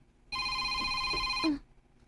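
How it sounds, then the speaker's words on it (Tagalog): A telephone bell rings once in a single sustained burst of bright, steady tones lasting just over a second, clear and close, with no talk over it. "May nanawag na sa nimo."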